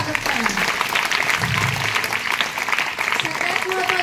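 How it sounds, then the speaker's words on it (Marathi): A group of children claps to welcome a girl named Arohi Shelke, a rough, continuous patter of applause with voices talking over it. "आरोही शेळकेचं सगळ्यांनी टाळ्या वाजवून स्वागत करा"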